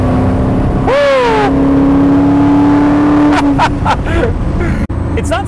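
Classic Maserati Ghibli engine revving hard, a rising tone sweeping up then holding steady before easing off, loud and close amid road noise with some voice sounds.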